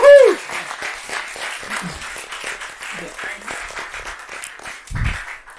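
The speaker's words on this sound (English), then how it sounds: "give a big applause to Martin from HealthTech." An online demo day audience gives a presenter light, thin applause that sits under a host's cheering voice, with scattered claps for several seconds.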